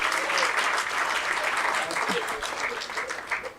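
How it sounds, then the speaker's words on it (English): A ceremony audience applauds learners from a Cape Town college for a pilot project with steady, dense clapping throughout, close and sustained, with some voices mixed in. "a final round of applause for our 18 learners from College of Cape Town standing"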